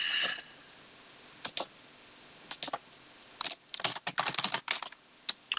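Computer keyboard being typed on while entering an Excel formula, sparse clicks at first, then a quick burst of keystrokes, fairly quiet and close, with no talk.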